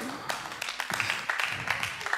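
A church congregation claps in a lively, uneven patter, individual hand strikes popping through a steady bed of clapping for a couple of seconds, with speech mixed underneath.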